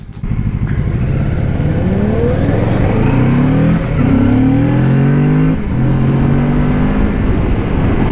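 A motorcycle accelerating hard on a road ride, engine loud and close as it climbs through rising revs with gear changes, the roar continuous over wind noise throughout.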